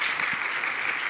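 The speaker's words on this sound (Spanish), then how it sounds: "Nuevamente, por favor, démosle un aplauso a Gaby." An audience at a book presentation for author Gaby Vargas gives a brief burst of thick, steady applause that fills the moment.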